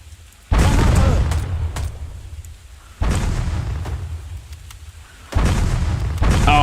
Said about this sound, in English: Achtung, Explosion.